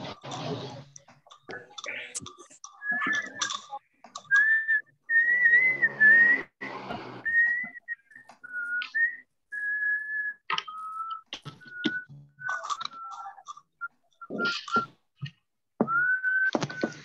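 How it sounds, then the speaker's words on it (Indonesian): Clear tonal whistling runs through an online class session, a series of short sustained notes and little melodic phrases, interrupted by clicks and a few brief voices. "Siapa bersiul itu?"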